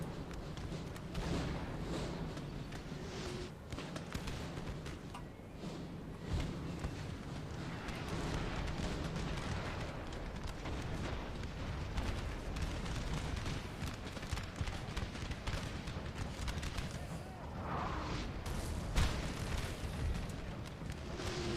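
Artillery cannons boom in Napoleon: Total War, a dense, continuous battle din of blasts and rumbling fire, loud and sustained with no clear gaps.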